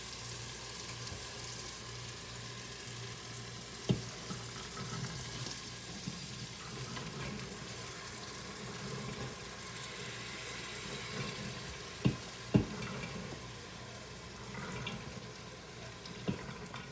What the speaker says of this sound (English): make sure the spices are mixed thoroughly with the chana.